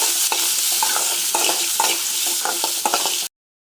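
Shallots and tomato sauté in a pan with a steady bright sizzle, broken by repeated stirring scrapes and clinks for about three seconds before cutting off abruptly.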